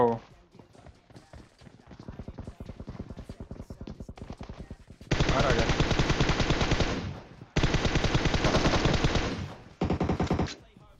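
Rapid automatic gunfire in the PUBG Mobile shooter game, loud bursts of several seconds each with short gaps between them, following quieter fast clicking and footstep-like taps.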